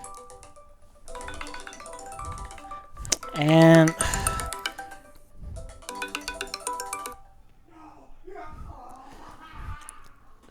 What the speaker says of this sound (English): Sorry if you heard a little ringtone.